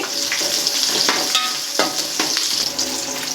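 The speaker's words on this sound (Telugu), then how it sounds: "కొంచెం బాగా ఫ్రై అవ్వనివ్వాలండి" Onions frying in oil for a spicy hotel-style pulao, a steady close sizzle with scattered crackles and occasional stirring scrapes, loud and continuous with no talking.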